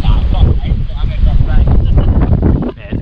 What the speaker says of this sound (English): it's fucking blowing a gale here